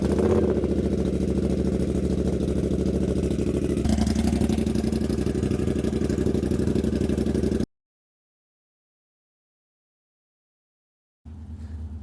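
A bobber motorcycle with starting problems runs at a steady warm-up idle, close and constant, then cuts to silence for several seconds before the engine sound returns briefly at the end.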